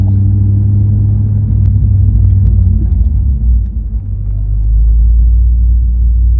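A manual-transmission car's engine pulling in second gear after a shift at about 2,000 RPM, heard as a steady, loud, deep rumble that dips briefly midway and then swells again.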